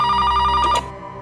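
An indoor telephone rings with a steady, bright electronic trill in a scene from the CID crime drama, then cuts off abruptly partway through, leaving a faint room hum.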